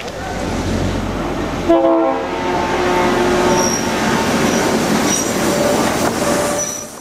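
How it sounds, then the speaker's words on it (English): A converted diesel passenger rail car with its engine removed pulls out of Ciego de Ávila station in Cuba: steady rolling wheel rumble with tonal squeal and a brief horn-like tone near two seconds, close and loud throughout. "Most passenger trains in Cuba are made up of converted freight wagons and diesel rail cars with their engines removed, like this one, leaving Ciego de Ávila."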